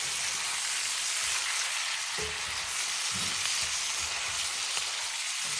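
Chicken gizzards coated in sauce cook over low heat, giving a steady soft sizzle and bubbling hiss that goes on without a break, with a few faint stirring knocks and no talking.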